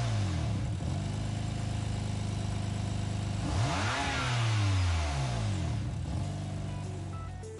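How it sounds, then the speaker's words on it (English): Race car engines roar in GT Sport gameplay, rising and falling through repeated revs and gear changes, loud and close for several seconds with no talking. "You can hear the engines growling and what's not."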